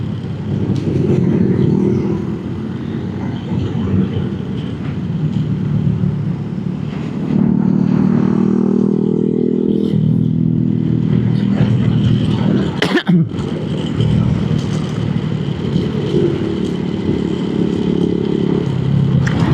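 Motorcycle riding through rain, a steady engine drone with wind and road rumble continuous throughout, loud and close, with a brief sharp clatter partway through.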